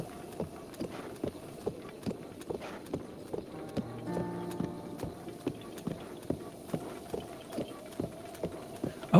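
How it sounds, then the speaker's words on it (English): Horse hooves clip-clop steadily in a video game, an evenly spaced series of sharp clops about two per second, fairly close and clear, with a brief low murmur of other game sound in the middle. "I hope that horse isn't following me."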